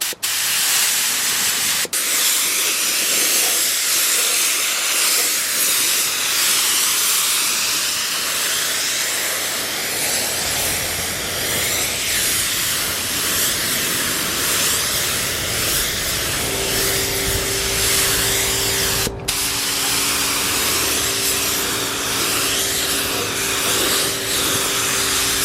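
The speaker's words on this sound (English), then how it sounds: "Let's throw a coat of primer on this valve cover." A compressed-air spray gun hisses loudly and steadily as primer is sprayed onto an engine valve cover, a continuous close spray with short pauses and a compressor-like hum joining later.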